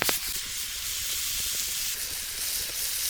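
Red onions sauté in oil in a cast-iron skillet, giving a steady, close hiss and sizzle throughout, with a few faint clicks and taps of cookware underneath.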